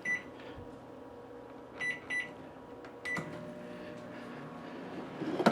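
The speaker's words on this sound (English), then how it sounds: "Put on the microwave." A microwave oven starts up while plugged into a portable power station alongside other appliances: several short electronic beeps from the keypad, then a low steady hum of the running oven, fairly quiet and close.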